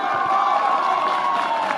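Crowd cheering and clapping at a political gathering for executive members, a steady, dense wash of whoops and applause that holds throughout at a fairly loud level.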